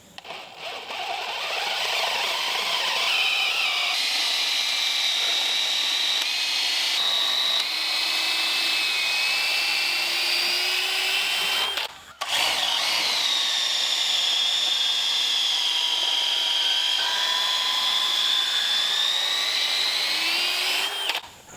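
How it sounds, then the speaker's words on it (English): A power drill bores holes for solar array mounts, running in two long sustained whines that rise and waver under load, with a brief stop about halfway, close and loud. "once we get these holes drilled, we'll change the angle and go back and drill the others"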